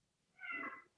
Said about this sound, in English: like our cat is now. I don't know if you can hear her, but she's being left out downstairs.